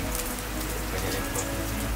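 Steady rain falls outdoors as a dense, continuous hiss of drops hitting surfaces, fairly loud and even throughout, with no voices.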